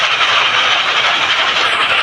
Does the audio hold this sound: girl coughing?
no